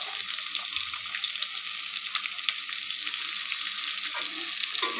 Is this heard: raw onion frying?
yes